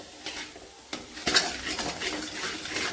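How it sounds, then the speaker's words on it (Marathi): Utensils scrape and clink against a pan while ambari spice masala sizzles softly in oil, with irregular stirring strokes close by. "मसाला टाकताना चांगलं परतून घ्यायचं"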